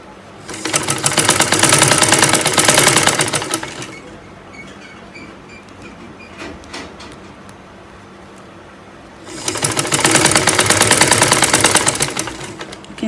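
A sewing machine top-stitches crinoline to a peplum lining in two loud, rapid whirring runs of about three seconds each, separated by a quieter pause with light handling.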